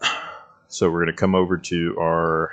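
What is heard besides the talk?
hydraulic PTU barking in Citation X, flight simulator video game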